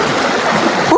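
Strong floodwater rushing past, a loud, close, continuous roar of churning water that holds steady for the whole moment.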